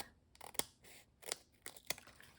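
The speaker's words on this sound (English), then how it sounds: "I've got to cut a strip" Scissors snipping through a paper strip for a Stampin' Up card project, giving a few crisp, close cuts spaced out in an uneven rhythm against a quiet room.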